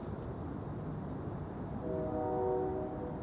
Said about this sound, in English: Just a train.